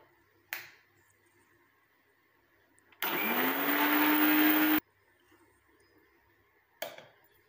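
A blender grinding black cumin seeds into powder runs in one short loud burst of about two seconds, with a sharp click or tap just before and after it.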